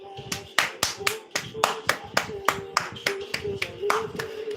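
Hands clapping close by in a steady, repeated rhythm, about fifteen sharp claps with a faint tone under them.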